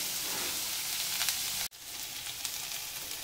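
Onion sautéing in a pan for paneer rolls makes a steady close frying sizzle, broken briefly by a sharp cut in the middle, then continuing just as before with no talking.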